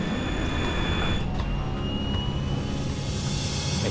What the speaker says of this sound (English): The plane lifts off the runway.